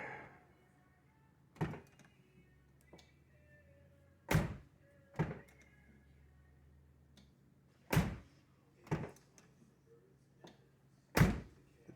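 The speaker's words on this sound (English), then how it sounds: "The door sounds different. Doesn't sound as tinny." A Saab car door, freshly repaired, slams shut several times with solid, close thunks spaced a few seconds apart, each ringing briefly over a quiet background.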